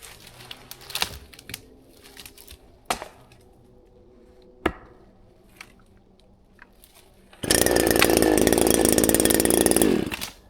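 A small McCulloch chainsaw trims branches while firewood is bucked on a snowy day, starting with scattered chops and knocks before a loud, steady cutting roar fills the last few seconds.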